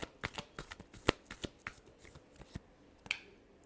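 Tarot cards being shuffled by hand, a quick run of crisp riffling snaps and flutters at close range, with no voices.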